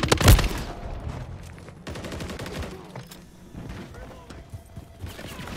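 Gunfire in the video game Modern Warfare III, a loud burst at the start followed by rapid, rattling shots and bursts, with voices talking over the firefight.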